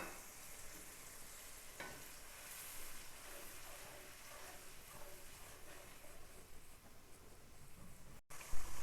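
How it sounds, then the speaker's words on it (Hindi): Ground spices with star anise and cardamom fry in ghee for a chicken shorba, giving a steady close sizzling hiss that runs continuously without talk. "अब इसको हमने भूनना है, मसाले को अच्छी तरह से"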